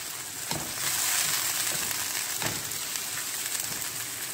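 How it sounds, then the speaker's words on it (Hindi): Tomatoes cooking in a hot pan for kala chana chaat, a steady soft sizzle and crackle with a couple of brief stirring scrapes, close and fairly quiet with no talking. "और इसके साथ ही हम इसमें टोमेटो ऐड कर देते हैं।"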